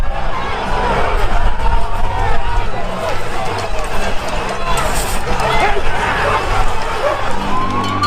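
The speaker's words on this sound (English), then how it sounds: "the crowd of thousands overwhelming police" A crowd of thousands of Covid-rule protesters in Melbourne, Australia overwhelming police: a dense, loud, continuous roar of running feet, shouting and babble, with no pauses.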